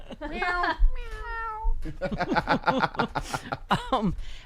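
A person imitates a cat's meow with a short, gentle, high rising-and-falling call, followed by chuckling and talk close to the microphone.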